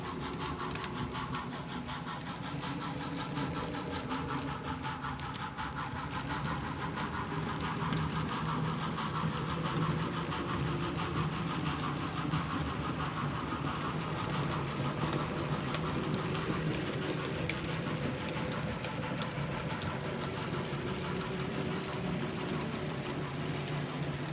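A steady mechanical whirring and rattling hum runs continuously, a small model train motor and wheels rolling along layout track, with no pauses or voices.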